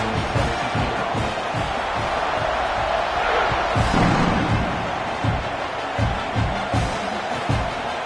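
Football stadium crowd before a kickoff, a broad, continuous roar of cheering with scattered thumps and louder swells, heard at a distance throughout.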